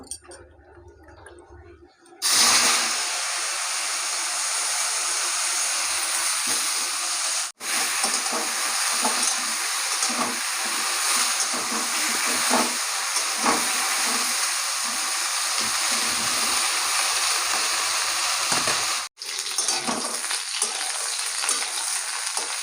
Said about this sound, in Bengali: এই কপিগুলো এবার ভেজে নেবো